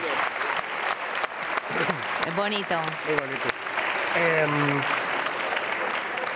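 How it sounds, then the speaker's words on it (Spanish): Applause from a gathered audience on La Palma, a steady crackling patter of many hands filling the room while a voice speaks over it. "Un aplauso para Quique, por favor."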